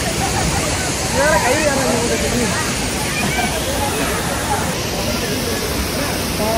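Munnar waterfall in Kerala, its water rushing down with force as a steady, loud roar that fills the whole clip, with a person talking close by over it.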